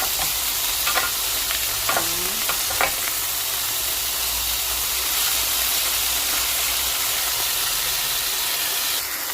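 Vegetables with herbs sizzle and fry steadily on a hot griddle plate (piastra), a constant close hiss with a few clinks of stirring near the start.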